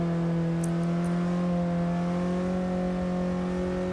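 A car on the Nürburgring accelerating gently through a long corner near the Carousel, a steady, loud engine drone with a slowly rising pitch.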